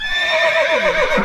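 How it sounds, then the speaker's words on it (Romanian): A horse gives a loud, close whinny indoors, a single rising-and-falling neigh lasting just over a second with no talk over it. "Cal în casă, cal în casă!"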